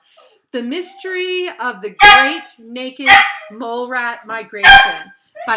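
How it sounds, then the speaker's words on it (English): A dog barks several times in short bursts at close range, mixed in with a person reading aloud and talking over the barks. "That's the dog."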